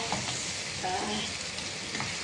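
Liver frying in a pan with black pepper, a continuous soft sizzle with light stirring, close but fairly quiet and uninterrupted for a couple of seconds.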